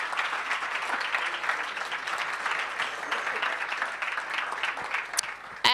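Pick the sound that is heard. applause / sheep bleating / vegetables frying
applause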